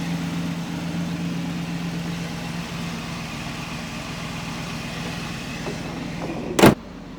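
A 1979 Oldsmobile Cutlass Calais V8 idles smoothly on a cold day, a steady low rumble heard up close, with a brief sharp click near the end.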